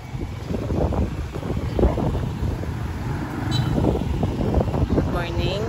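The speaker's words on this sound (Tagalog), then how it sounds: "mahangin dito guys. Mahangin sa ngayon." Gusty wind buffets the microphone on an outdoor walk through Ormoc City, making a steady low rumble that swells and fades, with a faint voice briefly audible under it.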